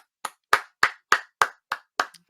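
Hands clap eight times in a steady, fairly quick rhythm, each clap sharp and close, with a quicker double clap at the end. Applause from a single person on a nerd-culture podcast.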